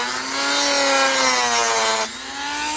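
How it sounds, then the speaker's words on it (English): A Dremel rotary tool grinds a mark into a metal part on a John Deere LA130 lawn tractor, a loud, steady high whine held up close that drops briefly in pitch before running on. "So I got this Dremel tool here."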